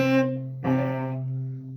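Cello playing the big notes of Gossec's Gavotte without the grace note: two sustained, resonant bowed notes, the second starting with a clear attack, solo and fairly soft.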